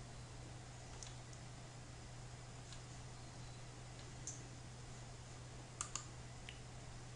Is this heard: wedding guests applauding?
no